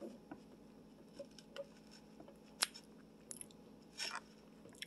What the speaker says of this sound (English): I'm just chewing up the coconut.